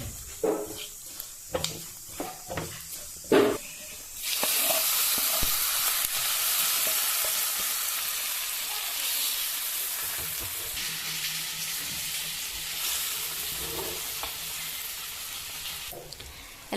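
After a few scattered clatters, spices hit hot oil and burst into a loud, continuous sizzle that slowly settles as Kashmiri chili is fried for Kerala sadya-style koottucurry.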